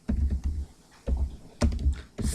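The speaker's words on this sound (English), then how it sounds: "I am typing the mobile number" Keystrokes on a computer keyboard while a mobile number is entered into a Microsoft Access form, heard as short bursts of close, crisp clicks separated by brief pauses, with no talking.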